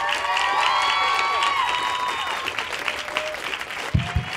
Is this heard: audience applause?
yes